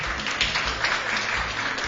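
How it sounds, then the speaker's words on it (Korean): Audience applause at a course opening ceremony for a citizens' college, with attendees standing; dense, steady clapping fills the room throughout at moderate loudness, with no voices over it. "박수 보내주시기 바랍니다."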